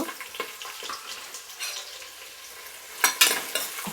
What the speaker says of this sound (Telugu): ఇప్పుడు దీంట్లో నేను ఆనియన్స్ పచ్చిమిర్చి యాడ్ చేసుకుంటున్నా